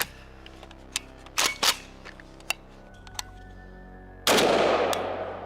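A 5.56 AK rifle fires several sharp single shots at irregular intervals, followed by one louder blast that rings out and slowly decays.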